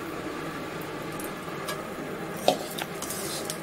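Sweetened flattened rice (chire) being stirred in a pan makes soft scraping and occasional metallic clinks of a spatula against the pan, with a faint sizzle in the background.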